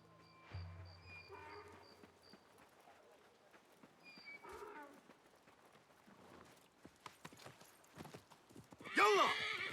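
Horses in the video game Assassin's Creed Mirage, hooves clip-clopping in a steady trot and several neighs and whinnies, the loudest whinny near the end, with dialogue between them.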